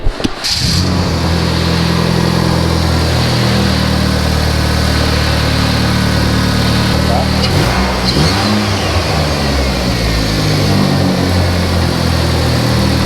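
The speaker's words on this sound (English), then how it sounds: "So we're gonna start up the car with no blow-off valves." A Hyundai Genesis Coupe engine, running without blow-off valves, cranks and catches, then settles into a steady, loud idle with a low rumble that wavers slightly, running alone without talk.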